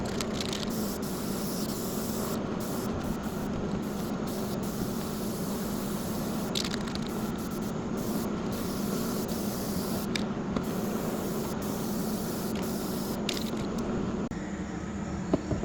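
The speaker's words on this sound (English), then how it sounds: "Let's do a couple coats of spray paint all over these things." Black spray paint hisses from a can onto a metal table frame in a series of sustained bursts separated by short pauses, close and fairly loud, with no talking.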